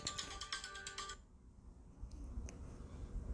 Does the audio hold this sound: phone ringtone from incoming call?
yes